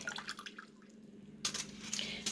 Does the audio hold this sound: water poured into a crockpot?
yes